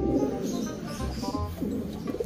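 A racing pigeon coos in low, repeated rolling calls, close and moderately loud, with a faint steady background and no speech.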